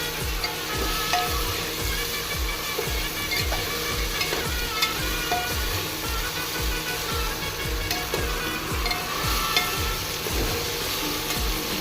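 Mixed vegetables with peas fry in a pan, making a loud continuous sizzle. Regular rhythmic stirring scrapes repeat up close throughout.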